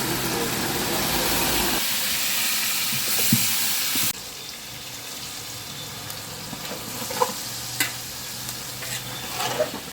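Chopped onion and meat fry in old mustard oil for chicken biryani, a loud dense sizzle that drops after a few seconds into a steadier crackle with occasional stirring scrapes, no talk.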